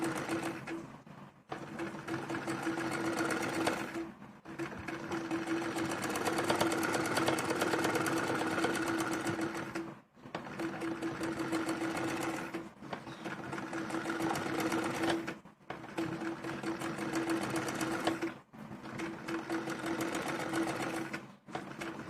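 A sewing machine runs in steady bursts as piping is stitched around a jacket armhole, its fast, even whirring hum broken by short pauses about every three seconds, close and alone.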